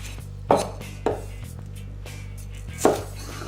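A knife chops through half an onion on a board in three sharp, separate strikes over a low steady hum, with no talking.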